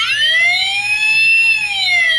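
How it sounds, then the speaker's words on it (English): Electronic siren from a Transformers Sentinel Prime toy: a loud, close wailing tone sliding up and down as one continuous sweep. "There's the sirens."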